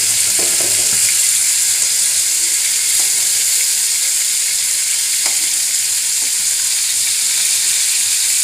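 Fish fry loudly in hot oil in a pan after being flipped, an intense constant sizzle with occasional faint scrapes, close and without talk.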